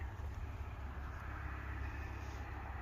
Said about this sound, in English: That's a big dually truck.